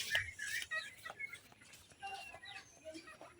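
Chickens cluck faintly in a rural village yard, short scattered calls against quiet open-air background.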